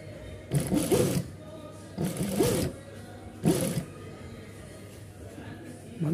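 A sewing machine stitching fabric for a baby boy's kurta pajama runs in three short, loud bursts with brief pauses between them, close by with no one talking.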